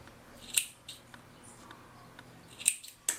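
Scissors snip notches into the corners of fabric for a unicorn tablet case, a few crisp separate cuts spaced apart in a quiet room.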